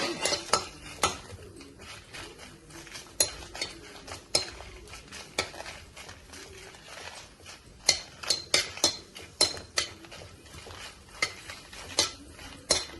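Bitter gourd fries lightly in a pan with little oil while a spatula stirs and scrapes it, making repeated sharp metallic clinks and scrapes over a soft, low sizzle.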